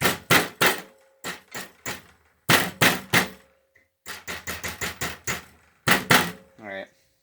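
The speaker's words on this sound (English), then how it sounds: "you can just hammer them down a little bit" Hot metal is hammered at a forge: sharp, ringing blows land close and loud in quick bursts of two to six strikes, with short pauses between groups.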